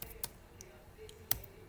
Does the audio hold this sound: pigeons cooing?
no